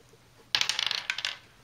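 Dice clatter across a tabletop wargame table during a Chaos versus Orks and Dark Angels battle, a quick burst of sharp rattling clicks that fades out after about a second, close and fairly quiet.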